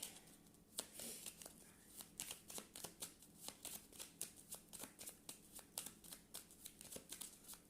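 Tarot cards are shuffled by hand in a quiet room, with repeated quick riffling snaps and soft paper slaps in an irregular rhythm, close and fairly faint.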